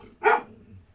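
A dog gives a single short bark, close and fairly loud, followed by quiet room noise.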